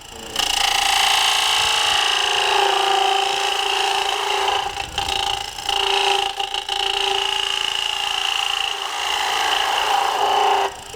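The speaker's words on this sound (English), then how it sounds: "I could come in with the skew like this." A skew chisel cuts a spinning wooden block on a shop-made wood lathe, a close, steady whirring scrape with tonal ringing, dipping briefly as the tool lifts and re-engages, continuous for about ten seconds.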